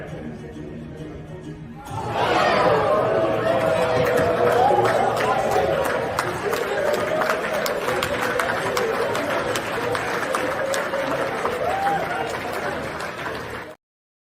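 A studio audience at a talk show breaks into sustained clapping and cheering that starts abruptly and holds steady, with crowd chatter mixed in, then cuts off at the end.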